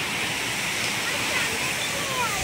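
Katulkasa waterfall in the Keshkal area of Kondagaon district, Chhattisgarh, pours in a loud, constant broadband roar that fills the whole stretch without a break.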